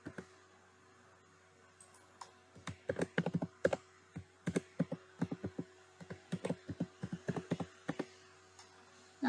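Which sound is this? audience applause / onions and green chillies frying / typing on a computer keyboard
typing on a computer keyboard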